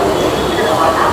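Local train running from Howrah to Santragachi, a steady loud rumbling roar of the carriage in motion, continuous and close, without distinct clacks.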